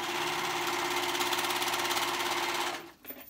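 A sewing machine stitches steadily around a hoodie pocket, its fast even whir running loud and close before stopping abruptly near the end.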